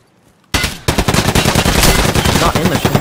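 Loud, rapid automatic gunfire in Escape From Tarkov, fired through a wall at an enemy inside a shack, bursting in after a brief quiet and continuing as a dense, sustained volley.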